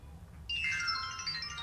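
SMS notification tone on a mobile phone in a fingerprint-reader school attendance setup: a single bright electronic chime starts abruptly and rings steadily for about a second over faint room hum, with no talking.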